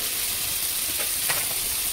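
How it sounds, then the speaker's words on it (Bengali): Ground spices (turmeric, coriander, cumin and chili powder) with salt fry in hot oil in a pan, giving a steady, close, dense sizzle that crackles continuously without pause and with no voices. "মশলাটাকে ভালো করে ভেজে নেব।"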